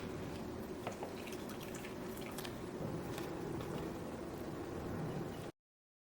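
Blended pea soup strains through cheesecloth, giving quiet, close wet drips and soft squishing for a few seconds before the sound cuts off.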